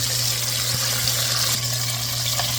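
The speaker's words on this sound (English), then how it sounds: "You want to let it fry for about 4 minutes, depending on your heat. I'm using old school Fry Daddy." Speckled trout deep-frying in an old school Fry Daddy, a constant close bubbling hiss of hot oil over a steady electrical hum, with no speech.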